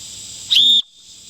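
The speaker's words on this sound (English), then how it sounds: "These whistles can be heard much easier than somebody screaming." An emergency whistle gives one short, shrill blast at close range, less than a full blast, heard outdoors while clearing storm blowdown, then cuts off into quiet hiss.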